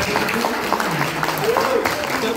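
Scattered clapping from an audience at a public talk in Indonesia, mixed with murmuring voices and a speaker talking over it.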